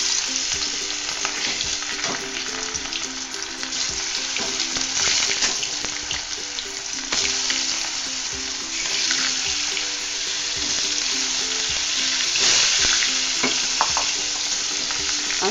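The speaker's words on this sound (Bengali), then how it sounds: "লবণ হলুদ মাখানো মাছটাকে তেলে ছেড়ে দিচ্ছি।" Turmeric and salt coated rohu fish pieces sizzle steadily in hot oil in a pan, a continuous crackling fry with occasional bursts and scraping as the fish is moved.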